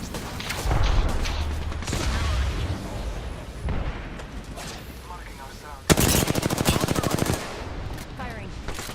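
Gunfire from an online shooter played on Xbox Series X: dense battle noise with scattered shots, then a loud, rapid automatic burst of about a dozen evenly spaced rounds near the middle, with voices talking over parts of it.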